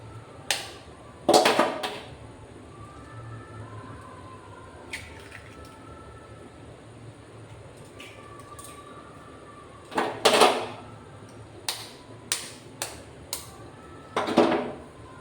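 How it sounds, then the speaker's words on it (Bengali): Two eggs cracked into a bowl with a few sharp taps and clinks that come in clusters, some close together and some spread out, over a quiet kitchen background with no talking. "এটা এই বোলটার মধ্যে আমি 2টো ডিম ভেঙে নিচ্ছি।"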